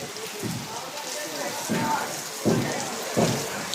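Heavy rain pours steadily while gusts of wind rise and fall, swelling in three or four louder surges over the constant wash of rainfall.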